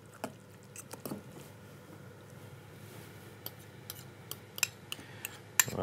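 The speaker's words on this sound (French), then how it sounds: "donc là, on va commencer à mélanger" Hummus and eggplant caviar spread mixed in a bowl: soft wet squishes and scattered sharp utensil clicks and taps, quiet and close, becoming more frequent toward the end.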